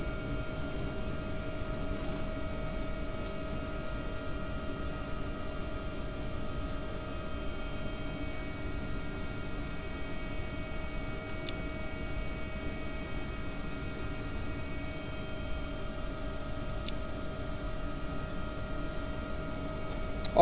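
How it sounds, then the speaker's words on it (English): Steady cabin noise inside an AW-139 helicopter in the X-Plane 11 flight simulator, a constant droning hum with a sustained tonal whine and rattling vibration, unchanging throughout with no talk. "It's just the helicopter rattling, if there's a lot of vibrations and noises like that in a helicopter."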